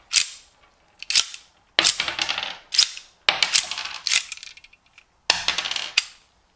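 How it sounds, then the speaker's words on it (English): Sharp metallic clacks of a 1911 pistol cutaway's slide being racked by hand, cartridges ejecting and clinking down after each cycle, about six close, distinct actions separated by short pauses. "Cycling the slide will cause the rounds to eject as normal."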